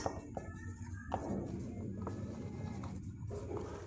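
Chalk or marker writing on a classroom board during a physics lesson, a run of scratchy strokes and taps close up, with steady pauses between them and no talk.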